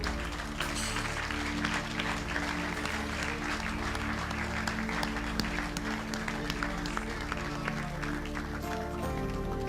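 A church congregation at a prophetic service claps in sustained, dense rhythmic applause that fills the room steadily, with a musical drone beneath and crowd voices faintly mixed in.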